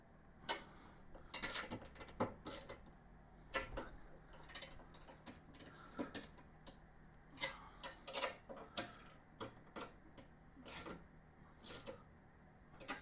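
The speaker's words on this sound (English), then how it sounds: "now that we've got them snugged, we'll go ahead and tighten them down" Ratchet tightening bolts during assembly of a Lifan KPT 400cc motorcycle, bursts of sharp clicking in short runs with pauses, close but quiet over a steady low hum.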